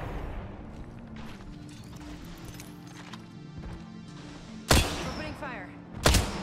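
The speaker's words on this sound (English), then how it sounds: "Opening fire." Two loud gunshot blasts in Apex Legends, set well apart near the end, over a steady game hum and background voice chatter.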